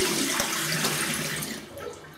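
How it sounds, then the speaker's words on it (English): A razor being rinsed under a running tap, a steady broadband splash and flow of water with no talk, fairly close and even in level, easing slightly near the end. "I'm gonna have a quick rinse."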